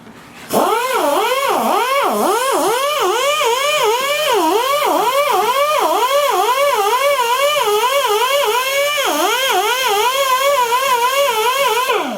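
A taxidermy fleshing machine runs while working a hide around an animal's lip, its motor whine repeatedly dropping and rising in pitch in a rhythmic pattern as the blade bogs under load, loud and close throughout.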